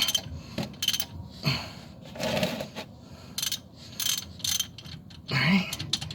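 A Mercedes W204 rear differential drain bolt is loosened with a hand tool, giving a series of close metallic clicks, ratchet-like clacks and scraping taps in irregular bursts, with no talking.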